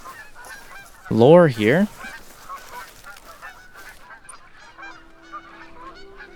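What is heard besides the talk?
geese honking while flying overhead in video game The Hunter: Call of the Wild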